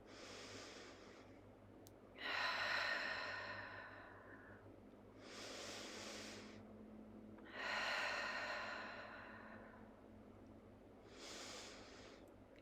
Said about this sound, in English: Taking one more slow breath in.